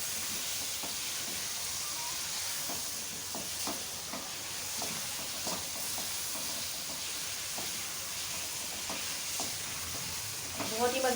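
Whole cumin, coriander and black pepper roasting with chicken in hot oil or ghee for masala chicken, giving a steady close sizzle with repeated scraping stir strokes throughout.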